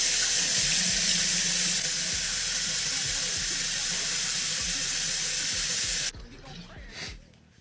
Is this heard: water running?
yes